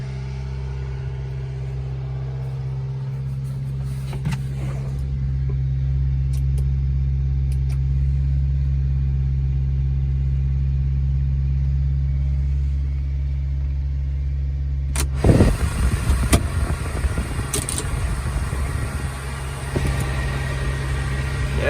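A kei truck engine idles with the choke on while warming up, a steady low hum that shifts to a rougher, louder running sound partway through, close and alone.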